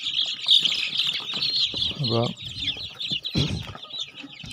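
Gramalakshmi and Sonali chicks, about 25 days old, cheep in a steady high-pitched chorus throughout, with a brief louder call and occasional rustling; a person speaks briefly nearby.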